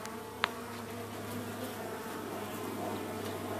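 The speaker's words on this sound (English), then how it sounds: "Probably 4 or 5 pounds of bees there." Dense, steady buzzing of a honeybee swarm of several pounds clustered on a branch, recorded up close; a continuous loud drone holds throughout with a brief sharp click near the start.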